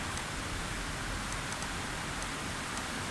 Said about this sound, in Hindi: बारिश बाहर बहुत तेज़ हो रही है, इसलिए हो सकता है कि साउंड उसकी भी रिकॉर्ड हो रही हो